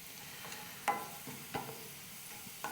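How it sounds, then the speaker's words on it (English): Onions fry and brown in a pan for lentil dal, a soft background sizzle broken by a few distinct clinks and scrapes of stirring, fairly quiet and close. "the onions are starting to get brown now"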